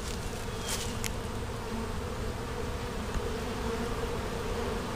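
Dense, continuous buzzing of many honey bees working around their hives close by, a steady droning hum with no voices.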